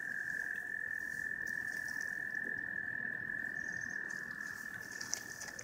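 Spring peepers and other frogs call outdoors near the water during a kayaking trip, forming a steady, dense chorus of high piping notes that holds without pause, with no voices over it.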